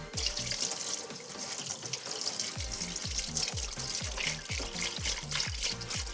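Tap water runs steadily into a sink while a fresh, fatty sardine is rinsed after gutting, with irregular splashing and dribbling and repeated low thuds as the fish and hands move under the stream, close and continuous, no talking.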